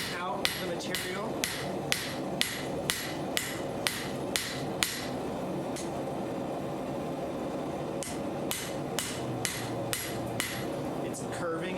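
Hammer blows fall on a leaf spring being forged into an herb chopper, sharp ringing strikes in quick regular bursts, then a pause and a second short run of blows.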